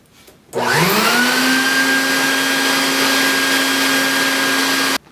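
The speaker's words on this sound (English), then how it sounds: "we're gonna vacuum up all your fiberglass and metal shavings" A vacuum cleaner switches on abruptly, whines loudly and steadily up close for about four seconds sucking up fiberglass and metal shavings from drilling a truck topper, then cuts off.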